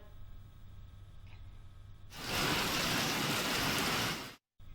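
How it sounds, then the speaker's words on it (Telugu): Heavy rain pours down in Hyderabad, a dense steady hiss that swells abruptly after a quieter stretch and holds loud and continuous before cutting off. "రాత్రి నుంచి ఎడతెరిపి లేకుండా వర్షం పడుతోంది"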